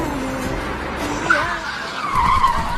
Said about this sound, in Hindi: गाड़ी भी आ गई